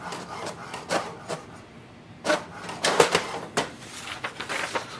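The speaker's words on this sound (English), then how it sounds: "It's printing the diagnostic sheet." An HP DeskJet 4252e inkjet printer printing a diagnostic sheet, heard up close as uneven rubbing and scraping strokes from the moving mechanism, with quieter gaps in between.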